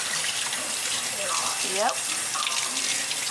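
Tap water runs steadily into a sink while hands are washed, a constant close rush of flow with a voice and brief talk over it.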